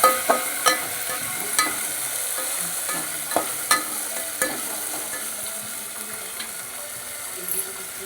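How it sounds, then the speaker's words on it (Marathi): Tomatoes and beans frying in a pan while being stirred, a continuous close sizzle broken by repeated clicks and knocks of the spoon against the pan, no voices. "पुन्हा टाकायची शेंगा हलवून घ्यायची"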